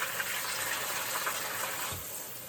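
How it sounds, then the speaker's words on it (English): Running tap water pours steadily over freshly harvested homegrown produce being rinsed, a close, continuous gushing splash that eases off slightly near the end. "So I'm just gonna rinse it off really good."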